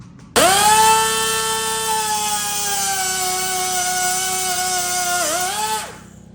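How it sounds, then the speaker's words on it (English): A power drill boring a 1/8-inch hole through a bolt whines steadily for several seconds, starting abruptly, holding a constant pitch, then dipping briefly before winding down. "Then I'm going to drill an 1/8" hole for the 1/8" wire rope."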